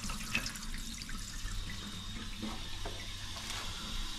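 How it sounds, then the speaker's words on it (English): Water drains from a Baxi Main Eco 30 combi boiler through a hose into a sink, making a faint, steady trickling wash with occasional splashes. "And there you go, draining off away into the sink."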